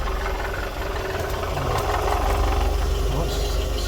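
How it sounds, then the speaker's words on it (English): A Renault Clio engine runs at a low, steady idle with a faint rumbling pulse, heard close and fairly quiet with no clear break or change in speed. "Start her up."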